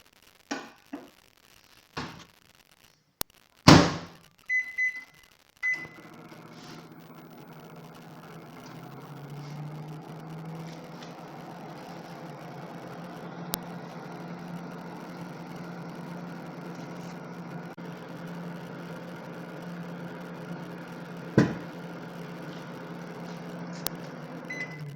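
A microwave oven runs with a steady low hum and whir while heating an egg, preceded by a few sharp clicks and knocks as it starts, then a continuous drone with occasional faint ticks.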